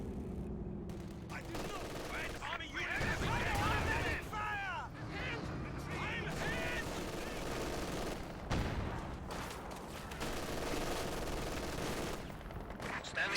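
An MG42 machine gun rattles in long bursts during a Company of Heroes 2 battle, mixed with other gunfire and distant explosions, while a commentator talks over the combat.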